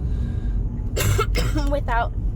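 Short bursts of harsh coughing from a sick person, close to the mic, over a low steady rumble.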